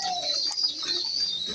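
Pigeons at their nest give soft low cooing against a steady high-pitched background hiss, fairly quiet and close.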